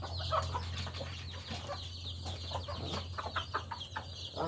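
American chickens in a coop cluck in scattered, overlapping calls over a low steady hum, fairly faint and at moderate distance.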